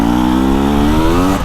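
A 2025 KTM 300XCW Champion Edition two-stroke dirt bike revs loud and close, a steady buzzing engine note creeping slightly upward in pitch for a moment.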